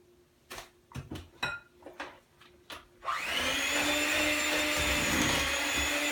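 An electric mixer starts up after a few knocks and clatters from dry ingredients being added to a bowl, then whirs steadily and loudly while mixing butter mixture with the dry ingredients.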